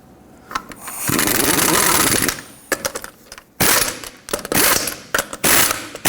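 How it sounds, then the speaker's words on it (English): Lug nuts on a 1995-2004 Toyota Tacoma front wheel tightened in a cross pattern, with close, loud bursts of a ratcheting wrench or impact tool in short, separate runs and brief pauses between them. "Start on all 5 of your lug nuts, bottom them out in a cross pattern"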